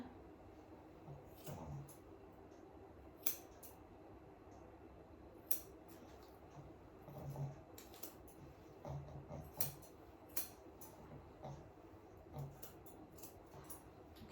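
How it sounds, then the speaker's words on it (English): Scissors snip through a Shih Tzu's coat during a full all-off groom, with sparse, quiet cuts in irregular bursts against a low background hum. "just get the scissors and go each corner"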